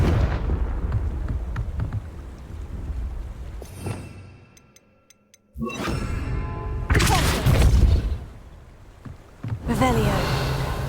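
Confringo fire spells from the Hogwarts Legacy video game go off as heavy booming blasts with crackling bursts, several loud impacts separated by a brief quiet gap, with game sounds around them.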